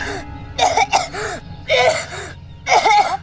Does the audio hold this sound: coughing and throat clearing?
yes